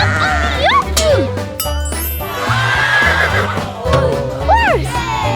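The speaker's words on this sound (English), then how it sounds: "Horses like hay." Horse neighing on a farm during animal feeding, several rising whinnies over a steady background of music-like tones and jingling.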